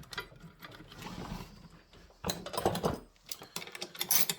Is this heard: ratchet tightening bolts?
yes